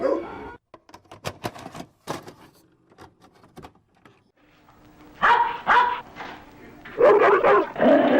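Doberman pinschers in a 1970s caper film trailer bark and yip in scattered bursts that build to loud, close barking near the end, with sharp knocks or clatter early on.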